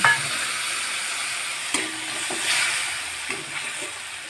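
Onion frying in a pan with garlic paste, chili and turmeric mixture added gives a steady, close sizzle and hiss, with a few brief stirring scrapes breaking through.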